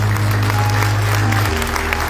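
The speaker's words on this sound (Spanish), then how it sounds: "Un fuerte voto de aplausos para ustedes mismos" Applause from a graduation ceremony audience, a dense steady wash of many hands clapping alone throughout, close and fairly loud.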